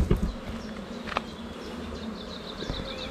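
Honeybees buzz around an open hive as they are called back home, a close, continuous droning hum with a few sharp clicks and knocks from handling, no talking.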